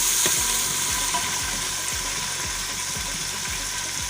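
Finely chopped tomato fries in a pan for matar pulao, a close, steady sizzle with repeated soft clicks and stirring knocks at a regular pace.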